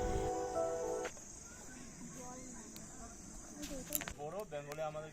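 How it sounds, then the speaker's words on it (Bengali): Crickets chirp loudly at dusk in the Dooars countryside, a steady high trill running beneath nearby voices talking and other faint scattered sounds. "সন্ধ্যা নেমে এসেছে, তাই বেশ জোরে ঝিঝির ডাকও শোনা যাচ্ছে।"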